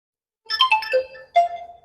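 An Oppo Reno 12F phone's dual speakers play a ringtone nearby, a short bright melodic phrase of a few chiming notes followed by one longer sustained tone.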